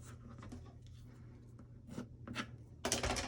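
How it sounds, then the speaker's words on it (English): Paper squares creased and folded by hand for momigami earrings, with soft rustles and scrapes building to a louder crinkly swipe near the end, close up and without talk. "Take the corner of the first square to the center, fold it down."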